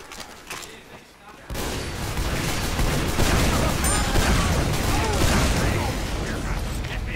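Heavy video game gunfire, a dense continuous barrage of rapid shots and booms that erupts after a quieter opening and stays loud throughout, with voices mixed in.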